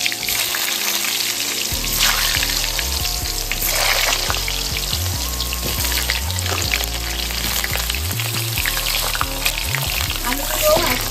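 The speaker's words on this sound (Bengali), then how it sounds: "তো আমি 7 টুকরো আলু এখানে ভেজে নেব।" Seven large potato pieces fry in hot oil for a Bengali mutton dak bungalow, a loud steady sizzle close by, broken by repeated scraping and stirring in the pan.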